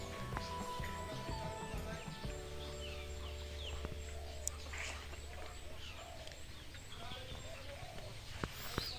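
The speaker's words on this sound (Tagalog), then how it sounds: "Doon lang yung mga ibon, no?" Birds call faintly in the rural Philippine countryside, scattered chirps and cries over a low steady hum, with people talking quietly in the background.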